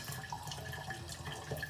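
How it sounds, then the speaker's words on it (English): Water runs steadily out of a K8 machine during its decalcification rinse, a soft continuous trickling and splashing flow with no voices over it. "The water flow can be a bit bigger lah."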